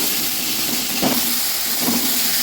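Masala spice paste with turmeric fries in an old, thin, worn wok, giving a loud, steady hiss with two brief scraping stirs partway through.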